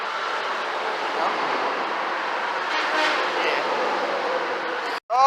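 A Western Star dump truck fitted with train horns blasts them in one long, loud, sustained blare on a New Hampshire road, cutting off abruptly near the end.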